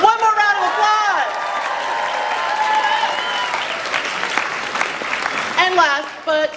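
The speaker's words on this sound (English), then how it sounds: "One more round of applause!" A crowd applauds at the Saboten-Con 2023 cosplay masquerade, with steady clapping and cheering, and a host talks loudly over the applause at the start and near the end.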